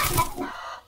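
A hen gives a short, loud burst of clucking that trails off within a second, part of the sound in a trailer for a video game about an egg in a henhouse.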